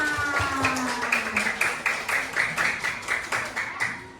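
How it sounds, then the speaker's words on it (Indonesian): Audience applause at a community outreach education event: a crowd claps steadily in rhythmic bursts, moderately loud and close, with a faint voice briefly audible early on. "yuk tepuk tangan"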